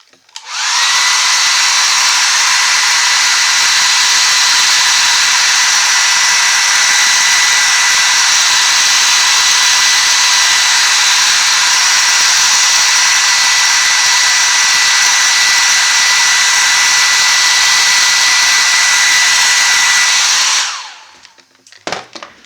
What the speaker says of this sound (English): about 15 seconds of hairdryer heat,